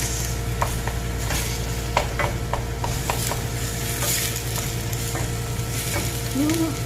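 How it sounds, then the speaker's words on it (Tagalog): Tomato paste being stirred in a hot pan for lasagna, a steady sizzle over a low hum with repeated scraping taps of a utensil against the pan. "We put some tomato paste. Mix."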